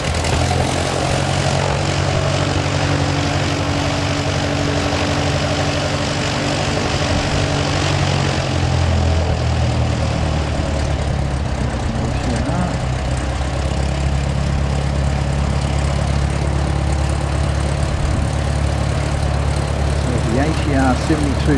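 An Air New Zealand ATR 72-600 turboprop touches down, its propeller and engine drone loud and continuous, with talk over it throughout.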